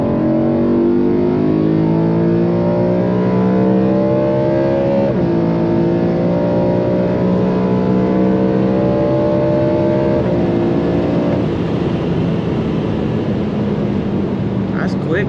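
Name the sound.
sports car engine accelerating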